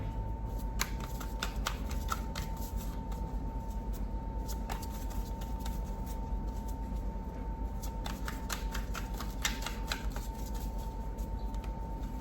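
Tarot cards being shuffled by hand during a card reading, a steady run of soft riffling and flicking taps lasting throughout, close and clear over a faint constant background hum.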